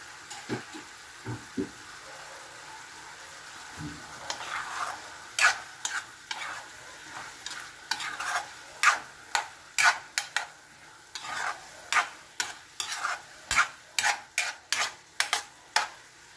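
Green beans and ground pork with oyster sauce stir-fry in a pan, a low sizzle under repeated sharp scrapes and clacks of the utensil, growing busier and more rhythmic as the stirring speeds up.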